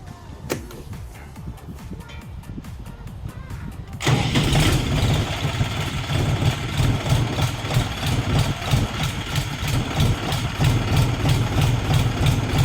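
An Orion RD244 mini tractor's small engine cranks and catches, then settles into a loud, steady, chugging idle that runs close and unbroken to the end.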